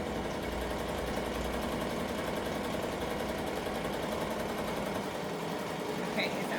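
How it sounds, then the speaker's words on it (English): An embroidery machine stitches an appliqué design with a steady, rapid mechanical whirring and rhythmic needle chatter that continues unbroken at close range. "I'm going to let this one go ahead and stitch a little bit"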